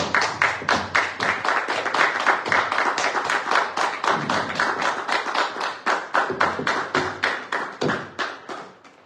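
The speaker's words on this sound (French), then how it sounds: "vous avez applaudi pour vous, maintenant applaudissez pour Yeshua Mashiach" Congregation clapping in unison at a messianic church conference, loud rhythmic claps in a fast steady beat that continues close and sustained, with a few heavier thumps mixed in.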